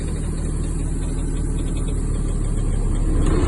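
A truck tractor's diesel engine labors against its set parking brake during an air-brake test, giving a loud, constant, heavy rumble that swells slightly near the end, with no talking.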